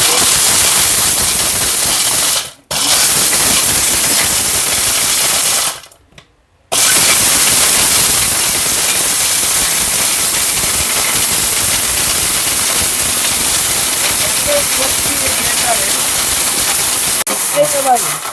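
A Miyako kitchen blender pulsing in loud bursts, its dense whirring roar cutting off briefly twice before running on steadily, with no other sounds over it.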